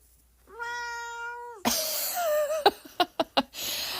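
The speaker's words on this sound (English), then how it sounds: "my cat Awaz says hi" A house cat meows clearly and close by in one long drawn-out call, then makes a few short, sharp chirping sounds.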